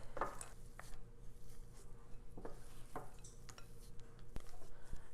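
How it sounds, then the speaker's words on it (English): Chocolate chips are folded by hand into brownie-mix cookie dough in a bowl, giving soft, faint scraping and stirring scuffs with a few light clinks of utensil against the bowl, in a quiet kitchen. "I'm just folding these chocolate chips into our cookie dough here."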